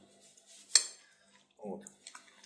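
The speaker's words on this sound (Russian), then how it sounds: "Мы сейчас это все перемешаем." Zucchini stuffing is stirred in a bowl as a few faint wet clinks and squishy scrapes, with one sharp utensil knock near the start and quiet gaps between.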